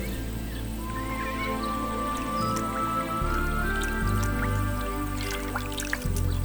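A kea parrot rinses food in water, with soft wet drips and squishy splashes in a steady natural outdoor setting, with faint bird calls and background ambience.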